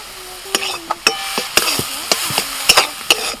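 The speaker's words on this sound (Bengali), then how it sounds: "এক চামচ ভাজা মশলা দিয়ে এটা মিশিয়ে দেবো" A spoon scrapes and knocks against a pan while roasted spice is stirred into carrot paste, with sharp metallic clinks every fraction of a second, close and fairly loud.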